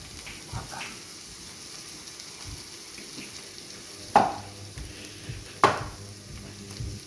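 Chopped vegetables tipped into frying onion in a pan, with a steady low sizzle and two sharp clatters of a spoon or spatula stirring against the pan.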